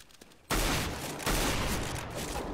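Two loud sawed-off shotgun blasts from Counter-Strike: Global Offensive, each a sudden, harsh burst that rings on, the second arriving about three-quarters of a second after the first.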